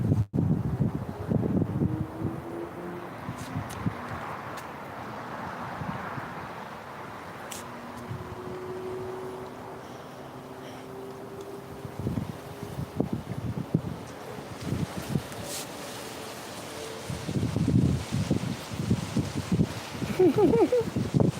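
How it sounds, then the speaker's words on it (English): Gusty wind roaring and buffeting the microphone, with people talking intermittently over it and occasional low rumbles. "It's so windy."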